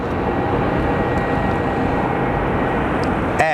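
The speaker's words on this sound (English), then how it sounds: "Those planes are pretty incredible." A steady, loud roar of jet aircraft engines at Phoenix Sky Harbor Airport, heard as continuous broadband rumble that stays even throughout, ending with a brief higher squeal.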